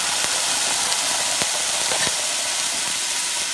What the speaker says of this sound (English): I'm going to hit the pan with just a little bit of white wine.